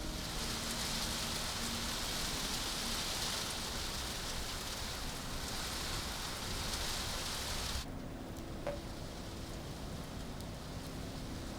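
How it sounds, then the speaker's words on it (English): Heavy rain pours down in Mumbai in an unbroken roar of drops that stays strong and steady, then eases slightly near the end, with no talking. "so it's very difficult to travel in such heavy rains"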